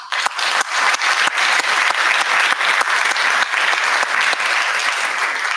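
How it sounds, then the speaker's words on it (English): Sustained audience applause at a conference opening keynote talk show, dense and loud with steady clapping throughout and no speech over it. "I think a round of applause."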